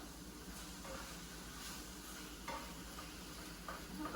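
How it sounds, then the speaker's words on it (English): Chicken frying in a pan for a chicken broccoli rice casserole, giving a faint, steady sizzle with soft stirring scrapes, with no talking. "so we're cooking chicken"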